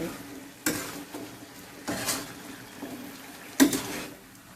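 Spicy eel is stir-fried in a pan, with a soft background sizzle and three or four scraping stirs of a utensil against the pan, fairly quiet and close.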